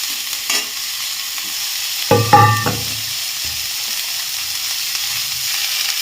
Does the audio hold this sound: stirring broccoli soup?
yes